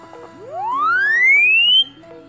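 An Oppo smartphone speaker in its *#808# test mode plays a test tone, a clear electronic sweep that glides upward in pitch for about a second and a half, then cuts off abruptly over faint background noise.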